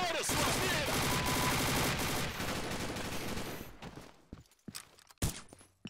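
Rapid bursts of automatic gunfire from a shotgun-allowed match in a video game, dense and loud at first, then thinning into scattered shots and thuds.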